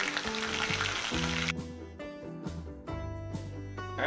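Ginger garlic paste frying with browned onions for Kolhapuri misal, a continuous close sizzle with stirring noises and a sharp change partway through as the paste hits the hot oil; no talk.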